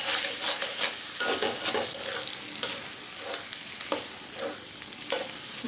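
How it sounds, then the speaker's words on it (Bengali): Chicken pieces fry and sizzle in a pan for a chicken and bottle gourd dish, with a steady close hiss broken by repeated scraping and clinking stirs of a utensil against the metal. "এখন আমি মাংস খুব ভালোভাবে ভেজে নেব।"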